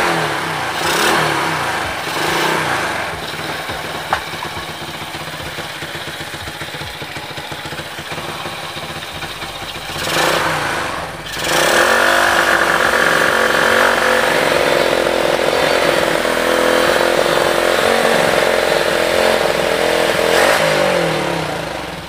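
Honda Supra motorcycle engine fitted with an OS 200 piston and high compression, revved hard and close up, its raspy roar swelling and dipping briefly before climbing into a sustained high-rpm scream.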